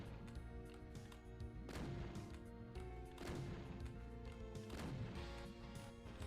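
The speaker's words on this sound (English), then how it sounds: "And that's the super shotgun." Super shotgun blasts in the DOOM total conversion mod Delver, three heavy booming shots at a steady pace over a dense music-and-effects game mix, fairly loud and close.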